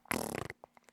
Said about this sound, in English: Just farting into the studio.